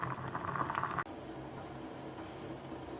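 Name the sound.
vegetables boiling in pot for moor kulambu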